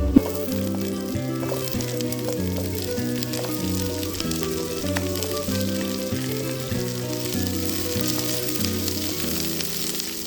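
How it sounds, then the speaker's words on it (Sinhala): Chopped garlic and onions sizzle steadily in hot oil for a devilled cuttlefish dish, a continuous close crackle running beneath music with a repeating bass line. "තෙල් ටික රත් වුණාන් පස්සේ ඒකට කපාගත් සුදු ලූණු"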